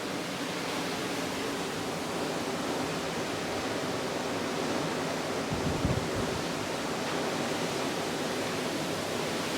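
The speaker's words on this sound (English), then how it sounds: "Look how calm the sea is." Steady, soft wash of gentle sea waves, continuous and even, with no voices.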